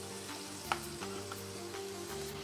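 Green vegetables stir-fry in a wok outdoors with a steady, close sizzle, broken by a few light clinks of stirring.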